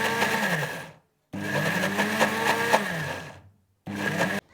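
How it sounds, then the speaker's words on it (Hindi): Electric mixer blending butter and milk for homemade processed cheese, running in two long bursts with a brief third burst, switched on and off between them; a steady loud motor whir with no talking. "ऑन ऑफ करके चलाना है मशीन को"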